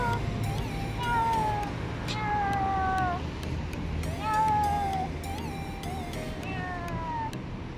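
A cat gives several repeated meows in irregular bursts, each a clear rising-then-falling cry, close and fairly loud over a steady background murmur of outdoor ambience at the Sharjah Corniche.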